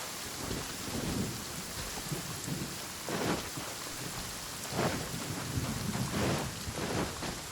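Steady heavy rain pours down with deep rolls of thunder rumbling through, swelling in several bursts across the storm, in the video game Genshin Impact.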